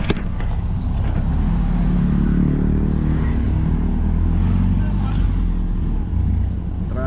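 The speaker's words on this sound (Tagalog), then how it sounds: "Medyo traffic." Road traffic with cars and motorcycles, a continuous close engine drone and rumble with revving swells, while someone talks over it throughout.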